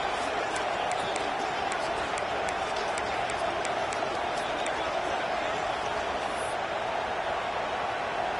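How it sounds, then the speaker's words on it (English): Dense, steady roar of a big football stadium crowd at a Gators game, broad and continuous for the whole stretch, with scattered sharper bursts of cheering and clapping on top and no clear talk over it. "This crowd bringing the energy and noise early."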